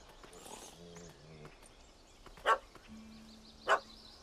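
A dog in the video game The Witcher 3: Hearts of Stone gives two short, sharp barks about a second apart, rising clearly above a quiet game ambience.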